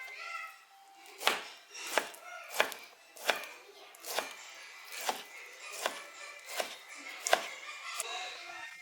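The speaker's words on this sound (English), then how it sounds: "you don't need to worry about cutting the bacon into tiny cubes" A knife chopping bacon into cubes on a board: about a dozen crisp, evenly spaced chops at a steady unhurried pace, close and fairly quiet, with nothing else heard.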